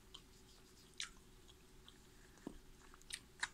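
Quiet close-up chewing of Jimmy Dean sausage and boiled egg from a protein pack, soft squishy bites and a few faint crunchy clicks spaced irregularly over low background hiss.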